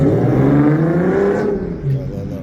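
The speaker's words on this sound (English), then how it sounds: "Like to rev the engine back and forth." A car engine revs up and down in loud, close, sustained surges that rise and fall, with a brief dip before picking up again.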